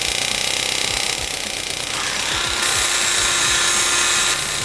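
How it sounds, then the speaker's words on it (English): Loud power tools are in use during car repair. A harsh, continuous mechanical whine and grinding runs throughout, with repeated rapid impacts and shifts in pitch partway through. "Grinders, impact guns, compressors, they all scream louder than your neighbor's lawnmower."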